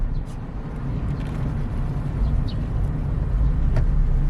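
A manual-transmission car being driven without using the clutch runs in third gear, its engine and road noise forming a loud, steady low rumble from inside the cabin with no breaks.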